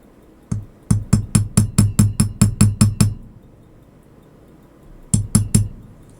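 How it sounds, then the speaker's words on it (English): A small hammer taps a clock part resting on a staking stake while a pallet lever staff is made for an 1860 carriage clock: about a dozen quick, evenly spaced metallic clinks, a pause, then three more close taps. "go right over the top of the part, like that, and a couple of wraps with my hammer"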